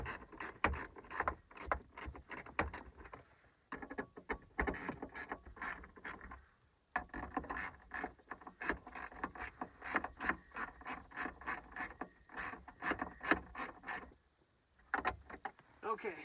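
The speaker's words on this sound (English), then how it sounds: "after I've got them started off, I tend to use a ratchet and then I'll hand tighten each one." Ratchet tightening bolts on a 2005 Acura TL, heard as quick repeated clicking strokes in bursts with rubbing, close up, with short pauses between runs.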